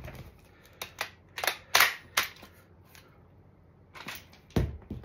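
Magazine change on an M4 URG-I airsoft rifle: a series of sharp metallic clicks and clacks, spaced irregularly across several seconds, close and crisp in a quiet room.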